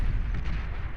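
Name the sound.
shell shocker artillery firing in Beyond All Reason video game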